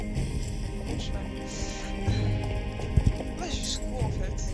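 Hooves clip-clop at a steady galloping pace from a horse in a video game, with a couple of heavier thuds near the end, under a continuous game soundtrack and some background chatter.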